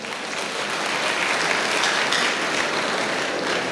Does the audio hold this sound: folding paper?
no